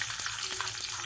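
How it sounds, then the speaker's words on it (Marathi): Curry leaves and green chillies dropped into hot oil for a tempering, crackling in a loud, close, continuous sizzle with quick sputtering bursts, no voices. "कढीपत्ता टाकून घेऊयात, हिरवी मिरची घालून घेऊयात।"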